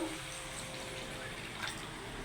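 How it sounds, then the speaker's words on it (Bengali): Water poured into a pan of fried spices while cooking a prawn and potato curry, a steady continuous gushing pour lasting about two seconds, close and moderately quiet. "মশলা কষানো হয়ে গেছে একটু জল দিয়ে দেবো"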